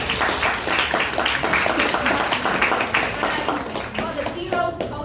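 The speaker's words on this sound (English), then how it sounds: "Please give them a big round of applause." Audience at a joint Toastmasters club meeting in Vietnam claps steadily in dense, sustained applause for the organizing team, filling the room at an even level for several seconds before starting to thin near the end.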